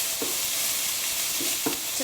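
Courgettes and other vegetables sizzle steadily in a hot pan during pasta bake prep, a continuous bright hiss with a few soft stirring scrapes.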